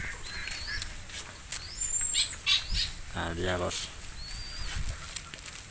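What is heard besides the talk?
zebra dove calling and flapping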